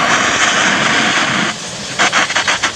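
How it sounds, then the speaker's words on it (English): A jeweler's torch flame roars loudly with oxygen blown into the tip, a dense hissing rush that drops abruptly halfway, then returns in several short bursting puffs. "Abi is actually blowing oxygen into the torch tip to apply more heat to the metal."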